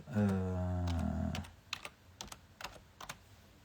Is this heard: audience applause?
no